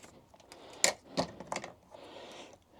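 Scissors trimming material for a DJI remote mount on a motorcycle, a few close, sharp snipping cuts spaced unevenly and followed by a soft rustle.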